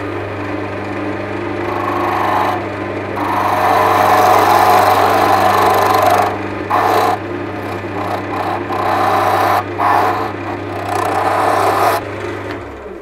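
A wood lathe spins a wand being turned off-center, a loud, steady motor drone with a low hum, broken by raspy cutting bursts as the tool meets the wood, then fading as it stops.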